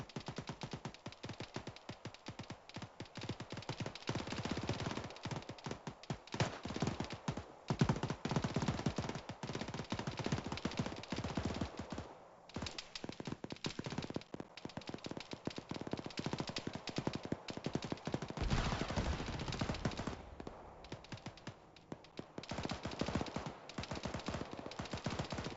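Continuous gunfire during a military field training exercise outdoors, a steady stream of distant-sounding rifle and automatic shots overlapping for the whole stretch, fairly faint and muffled, with no clear talk.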